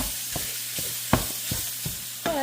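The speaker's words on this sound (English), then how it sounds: "I wasn't planning on just showing the entire process of cooking the sausage." Sausage fries in a pan on a home stove with a steady sizzle, broken by several spaced scraping strokes of a utensil stirring, one louder knock, and a brief tonal clink at the end.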